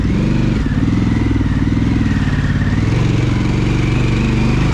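Harley-Davidson Pan America motorcycle riding off-road in first gear with steady throttle, a loud, close, continuous low engine thrum and pulsing exhaust, slight shifts in pitch, with faint clatter over it.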